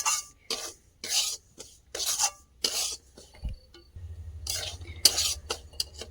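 Semolina dry-roasting in a pan is stirred with a utensil, giving repeated scraping, rasping strokes in short bursts, close and fairly loud, with a low steady sizzle underneath in the latter part.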